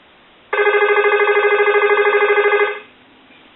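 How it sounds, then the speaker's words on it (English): A telephone on a SofTel TeleQuest repair tester rings in one loud, close, warbling electronic burst lasting about two seconds, then falls silent. "go ahead and ring the telephone. We'll let that go a couple of times"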